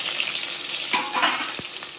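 Sliced onions fry in oil in a pan for a chicken sukka dish, giving a steady close broadband sizzle that swells briefly around the middle and ends with a soft utensil knock, with no voices.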